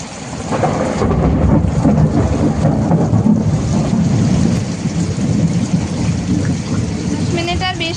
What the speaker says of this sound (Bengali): এখনও তো হচ্ছে অঝরে ঝরে যাচ্ছে বৃষ্টি